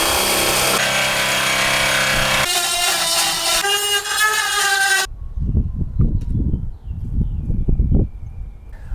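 A power drill with a 7/16 inch bit whines loudly as it bores through a Jeep Wrangler JK fender area, its pitch stepping up, then cuts out, leaving short bursts of scraping and knocking.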